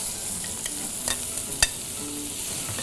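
Celery, carrots, onion and mushroom sauté in rendered lamb fat on a REC TEC grill, a steady close sizzle broken by a few sharp stirring clicks and scrapes, with no talking.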